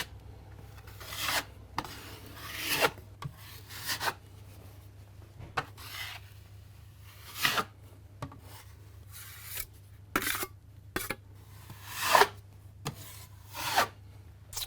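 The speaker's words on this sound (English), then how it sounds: "I've got my nice broad knife here, and we'll just apply it on." A broad knife drags filler across a wall while the top coat goes on over a patched hole, giving quiet, irregular scraping rasps in short strokes separated by brief pauses, with a faint steady hum underneath.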